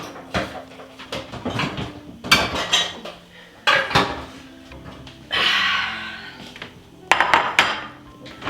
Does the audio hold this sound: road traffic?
no